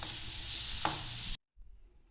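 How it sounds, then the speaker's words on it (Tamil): A steady hiss of spices dry-roasting in a pan for chicken curry, with a brief scrape of stirring, then the sound cuts off to near silence. "நல்லா வறுத்து எடுத்துக்கோங்க."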